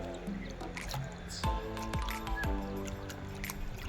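Water runs from an outlet at a temple site, a continuous splashing trickle with sharp drips and squishy plops close by, no speech over it.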